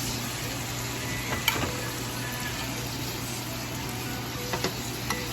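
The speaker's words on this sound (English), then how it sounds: "They've been searing for about 4 minutes." Pork tenderloins searing in a skillet, producing a steady close sizzle throughout, with a few faint clicks and utensil taps.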